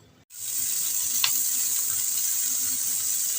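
A dried red chili dropped into hot oil for tempering, with a sudden loud sizzle that starts after a brief quiet moment and holds steady and close, with a faint clink partway through.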